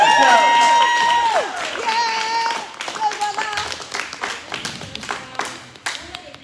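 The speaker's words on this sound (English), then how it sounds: "Clap out for Tao, bring out Tao." Team members clap and cheer at a football training session in Regent's Park, a burst of mixed handclaps and shouts following talking, close and lively, with claps thinning out toward the end.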